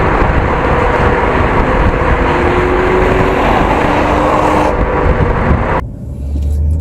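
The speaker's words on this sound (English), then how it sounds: "as we head onto the highway, you can definitely see how fast this car accelerates" A BMW 435i accelerates onto the highway, heard from inside as a loud, sustained engine and road roar with rising tonal engine notes and wind rush, dropping off abruptly near the end.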